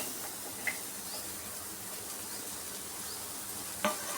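Sliced onions sizzle in hot oil in a pan while cooking a masala brinjal dish, a faint, steady hiss broken by a couple of soft clinks.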